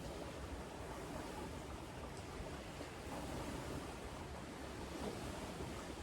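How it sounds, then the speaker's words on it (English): Steady ocean surf rolls and hisses without a break, a full, dense wash of breaking waves mixed with some wind, no voices. "Listen to the waves."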